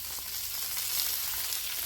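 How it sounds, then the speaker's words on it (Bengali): Fish fries in a pan with a continuous, even sizzle heard up close, fairly quiet, and no one talking. "এদিকে মাছ ভাজা হচ্ছে"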